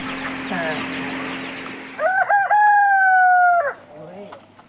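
A rooster crows loudly once, close by, after some soft clucking and muttering from chickens, with quieter clucks trailing off afterward.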